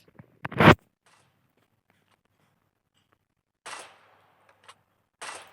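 Game gunfire from an M24 sniper rifle in Free Fire: one sharp, loud shot near the start, followed after a pause by two shorter, quieter bursts of report, with no talk over them.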